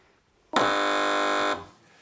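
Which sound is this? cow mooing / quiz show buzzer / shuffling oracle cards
quiz show buzzer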